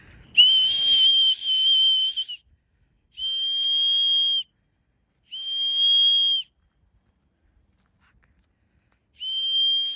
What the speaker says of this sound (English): Okay, whistles don't work.